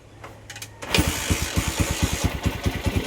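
A Honda TMX 155 motorcycle engine fires up after a kick start, catching abruptly and settling into a loud, steady, rapid thumping idle close by.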